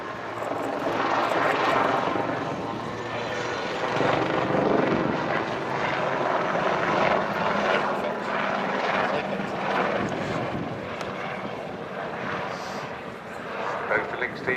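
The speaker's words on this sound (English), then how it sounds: "They noticed there was a very, very strange position to hold a helicopter, holding it on the fuselage there." A Lynx helicopter performs an aerobatic display at an air show, its rotor and turbine roar steady and loud at mid distance, with a commentator talking over it throughout.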